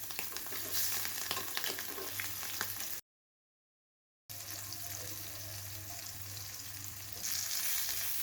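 Fish pieces sizzling as they fry in hot mustard oil, a steady crackling hiss that cuts out briefly and then resumes.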